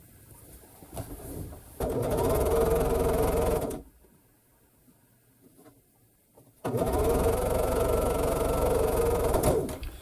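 Sewing machine stitching 7-inch quilt squares together runs in two loud, steady whirring bursts of about two and three seconds, separated by a quiet pause.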